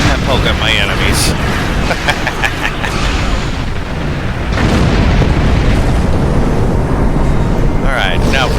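Explosions in the space combat game Star Trek Online, a run of loud booming blasts and bursts over a constant rumble, with a heavier roar swelling partway through.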